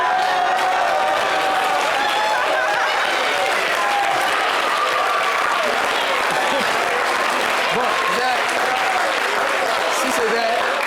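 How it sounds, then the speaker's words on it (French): Sustained audience applause fills a television studio at a season finale, a dense steady clatter of many hands that keeps going with voices talking and calling out beneath it. "Il faut applaudir."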